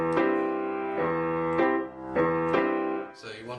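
Blues piano played as a walking bass line with the left hand following the off-beat chord, giving a clumsy syncopated pattern; four struck chords ring out in an uneven rhythm, close and clear, with no talk.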